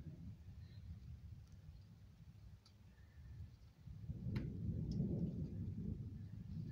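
Thunder rumbles outdoors during a lightning storm, a low rolling growl that swells louder in the second half, with faint patter of rain mixed in.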